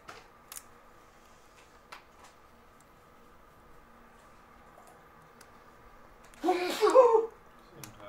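A single sharp sneeze near the end breaks an otherwise quiet room with faint ticks and small clicks from repair work on a Samsung Galaxy Tab S2 tablet.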